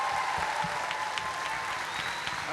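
A school convocation audience applauds for 3rd and 4th grade published authors, a steady wash of many hands clapping throughout.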